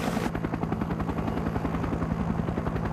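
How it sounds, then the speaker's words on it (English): A military helicopter in Vietnam war footage thumps with rapid, steady rotor beats, loud and close throughout, with a low constant drone beneath the chopping rhythm. "a helicopter, which is proven capable of operating in the midst of intense battle"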